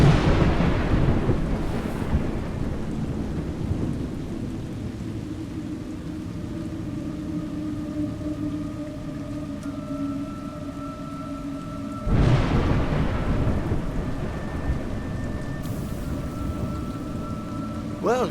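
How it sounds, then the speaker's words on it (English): Rain and thunder in the video game A Juggler's Tale: a steady wash of rainfall fills the scene, with a rumbling swell early on and a sharp thunder crack about two thirds through, followed by sustained tones over the downpour. "It's raining."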